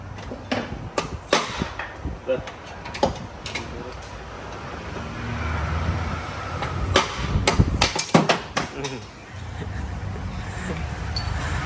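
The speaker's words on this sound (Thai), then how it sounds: "กำลังตีตอกลูกสูบออกมานะครับ ทั้งตีทั้งตอกนะครับ" Repeated sharp metallic hammer strikes ring out in irregular bursts, close by, as pistons are hammered out of an overheated Ford Everest engine, over a steady low mechanical rumble.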